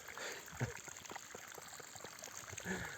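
A small mountain stream in the Carpathians trickles and gurgles steadily close by, with a few brief splashy bursts over the flowing water.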